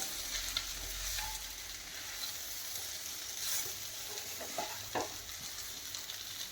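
A pan of Kerala chicken thoran with fried coconut is stirred, giving a steady sizzle with a few spoon scrapes, heard close and on its own.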